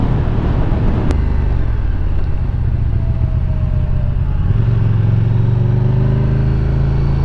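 A 2016 KTM Super Duke R motorcycle being ridden on the road: a steady, loud engine drone with wind rush, and the pitch climbs as the rider accelerates in the second half.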